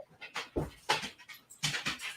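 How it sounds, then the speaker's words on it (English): A dog pants and whimpers in short, uneven bursts close by while it is let out the door. The sound comes in several quick clusters with brief gaps between them. "So We're letting the dog out."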